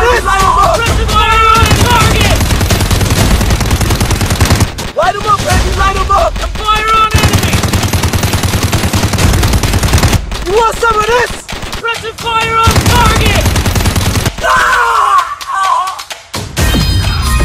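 Rapid gunfire bursts from a police car chase simulator video game, loud and sustained over most of the stretch, with shouting voices and game music or engine noise underneath, broken by a few brief pauses.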